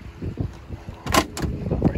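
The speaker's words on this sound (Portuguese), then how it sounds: "Vamos dar uma partidinha no motor pra gente escutar o barulhinho dessa usina de força" A Volkswagen Beetle 1300 engine is started: quick rhythmic cranking pulses, then a loud burst as it catches, then a rough running rumble, with no talk.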